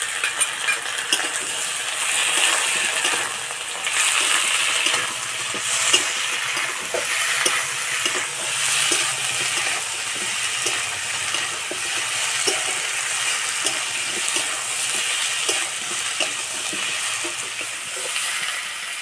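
Chopped tomato and onion with ginger garlic paste sizzle in hot oil in a pan while a utensil stirs, scraping and tapping in a steady rhythm against a continuous frying hiss.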